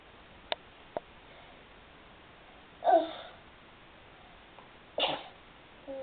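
A single sneeze, probably a young child's, at close range indoors, standing out sharply in an otherwise quiet room, followed a couple of seconds later by a second short burst and a few faint ticks.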